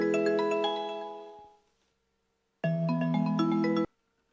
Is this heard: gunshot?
no